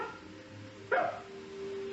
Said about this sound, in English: Okay, here's bark like a dog.